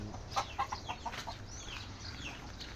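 Bantam chickens cluck softly in a short series of quiet, close calls over faint background noise.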